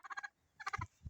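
Turkeys gobble in a poultry yard, two quick rattling bursts of rapid throaty calls, close and moderately loud with soft low thumps between.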